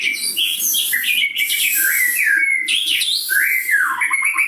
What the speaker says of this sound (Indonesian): Burungnya didiamkan dulu Bang Rajo, burungnya ya.